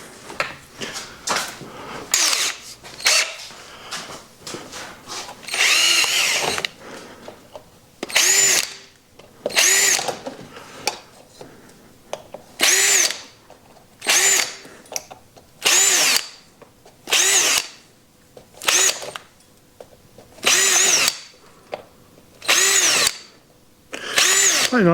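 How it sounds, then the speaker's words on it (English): A power drill bores a series of holes in a tire sidewall, repeated short close bursts of whirring separated by brief pauses, with no voices. "Now I'm going to drill some holes in the sidewall"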